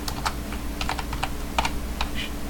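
Rapid clicking of computer keyboard keys as a folder name is typed on a Linux Mint computer, a quick irregular run of close keystrokes over a faint steady hum, no talk.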